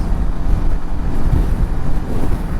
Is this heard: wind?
yes